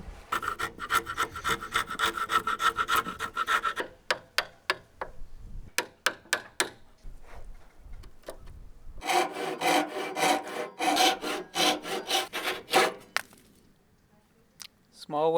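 Glue squeeze-out is cleaned away and a wooden tenon is pared level on an old wooden front door. The first stretch is a steady scraping rasp, then a few sharp separate knocks or cuts, then more long rubbing strokes, close and loud with no talk.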